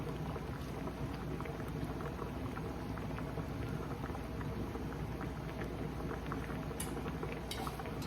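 A pot of sinigang na tuna soup with tomatoes boils steadily, giving a continuous bubbling and hissing simmer that stays even and moderately close, with no voices over it.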